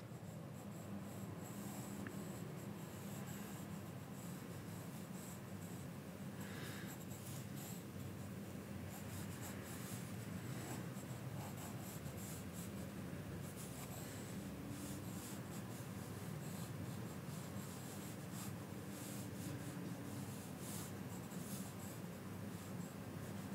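Pencil steadily scratching and rubbing across paper while a vignette sketch of fantasy characters takes shape, a soft continuous close scratchy texture with faint irregular strokes throughout.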